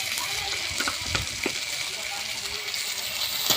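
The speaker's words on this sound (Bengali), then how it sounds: "হালকা ফ্রাই করে নেব আমি" Whole cumin seeds lightly frying in a pan give a steady, close sizzle with a few sharper crackles and pops, under someone talking.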